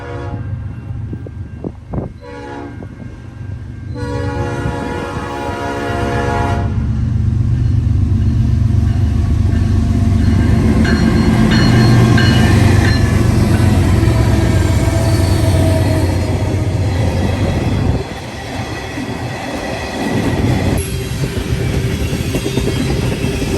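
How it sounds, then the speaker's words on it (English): Freight train 179 passes under the Norfolk Southern main line at milepost 163, its lead locomotive sounding a P5A horn in loud chords before heavy wagons rumble by at about 30 mph with wheels squealing. "P5A horn on the leader"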